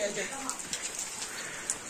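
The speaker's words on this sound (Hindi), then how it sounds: "छोटी छोटी झिमझिम बारिश हो रही है, झिमझिम तो नहीं हो रही, तेज हो रही है" Steady heavy rain falls outdoors under low clouds, a dense hiss with scattered drops. Faint bird coos sound under it.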